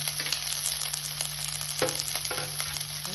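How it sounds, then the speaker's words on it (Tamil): Shallots, dried red chilies and curry leaves fry in hot oil for a Coimbatore-style goat blood fry, a close, steady sizzle broken by a few light stirring knocks, with no voices. "இது நல்லா ஃப்ரை ஆகட்டும் வெங்காயம் நல்லா வதக்கணும்"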